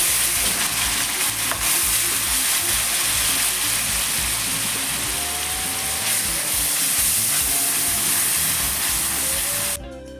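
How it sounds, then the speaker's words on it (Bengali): Onion paste sizzles and fries steadily in a hot pan for Bangladeshi chatpati, a constant loud crackling hiss with faint scraping as it is stirred throughout. "এবার পেঁয়াজ বাটা দিয়ে দিলাম সব কিছু ভিজে নেব ভালো করে"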